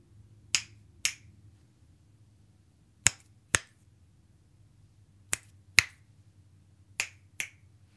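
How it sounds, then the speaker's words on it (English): Eight crisp finger snaps in pairs, recorded from the side on an Audio-Technica microphone, separated by short pauses, over a faint low background hum. "That was a lot louder, my snap."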